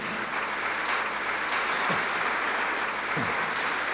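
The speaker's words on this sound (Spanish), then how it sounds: "Démosle palmas a Cristo por ese galardón." A church congregation clapping their hands, dense continuous applause filling the room, loud and steady with no pauses.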